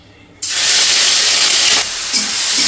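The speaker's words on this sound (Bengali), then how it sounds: "তেলটা গরম হতে থাক তারপরে আমি সেই তেলেই মাশরুমটা ভেজে নেব দেখুন তেলটা গরম হয়ে গেছে এখন দিয়ে দেব মাশরুমগুলোকে" Mushrooms hit hot oil with an abrupt, loud burst of hissing sizzle that holds steady and close for a couple of seconds, with no voices.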